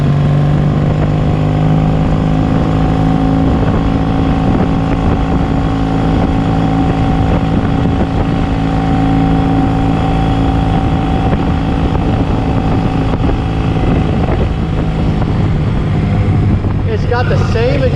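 A vintage motorcycle engine idling loudly up close, its exhaust giving a steady, throbbing drone that barely varies.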